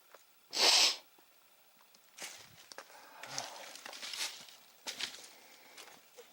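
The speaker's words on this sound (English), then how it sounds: "Pardon my sniffing, but my nose is running again from the walking." A person sniffs with a runny nose while walking outdoors in an old ghost town, one strong sharp sniff near the start followed by quieter breathy sniffs and shuffling footsteps, close to the microphone.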